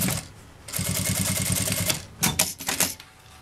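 A sewing machine stitching a fabric accordion wallet, running in a steady fast rattling burst, then a few shorter start-stop runs, close and clear.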